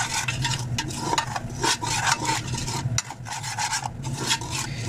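Gram flour (besan) frying in oil in a pan while a spoon stirs and scrapes it, giving a close, continuous sizzle broken by rhythmic rasping strokes against the pan.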